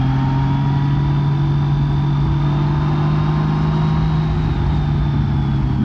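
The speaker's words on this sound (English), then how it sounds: "all the way down into second gear, and I just wait till I get to the apex and give it the slightest bit of throttle" A car's engine hums steadily at light throttle in second gear through a hairpin on a Shenandoah Mountain road, with a smooth, constant in-cabin drone and no talk.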